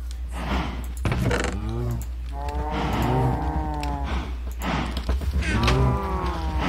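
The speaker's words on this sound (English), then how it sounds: "Wow, look at all those cows." Cows mooing in the Minecraft video game, several long low drawn-out moos following one another, loud and close, with brief gaps between calls.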